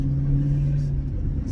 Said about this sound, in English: It's losing that trumpet sound and it's gaining the V8 back.